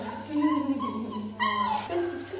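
Puppies at an animal pound whimpering and whining in high, wavering cries, close by, a few overlapping yelps rising and falling.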